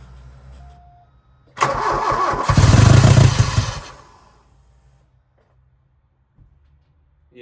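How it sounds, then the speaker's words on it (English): A VW Mk2 Scirocco 16v engine with no exhaust fitted starts up and revs loudly for about two seconds with rough, popping bursts, then drops back to a quiet idle and falls nearly silent. "what I'm hearing too is probably backfiring because you have no exhaust"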